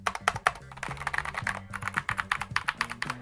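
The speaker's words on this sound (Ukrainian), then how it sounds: "це класична механіка оптична клавіатура із класичним клацанням" Fast typing on a clicky optical mechanical keyboard, a crisp, close, uneven stream of sharp key clicks and clacks heard alone, with a low hum running underneath.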